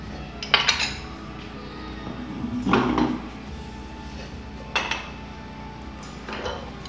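Metal burner caps are lifted off a gas cooktop one after another, four distinct clinks and scrapes spaced a second or two apart, close and clear over quiet room noise.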